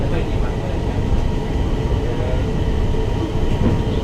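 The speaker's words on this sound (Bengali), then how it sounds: "ওই দিক থেকে আরেকটা ট্রেন আসছে" A driverless metro train, heard as a steady, loud rumble and rail roar filling the whole stretch with no clear breaks.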